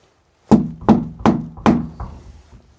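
Four sharp knocks on a door inside a chapel, evenly spaced and close, with a fainter fifth tap trailing at the end.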